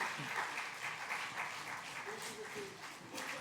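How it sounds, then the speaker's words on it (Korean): Steady, sustained applause fills a large hall at a university chapel service as professors come forward, a crowd clapping continuously throughout. "여러분 격려의 박수 부탁드리겠습니다."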